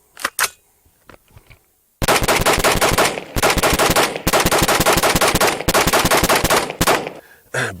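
Rapid bursts of gunfire from a Cox Arms EMR-1 AR-15 rifle, a few sharp isolated shots first, then several long dense strings of rounds separated by brief pauses, loud and close.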